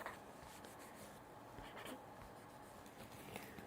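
Long-nib marker pen scratching across paper, a steady close scribbling texture with faint squeaky strokes, continuous throughout with no talking.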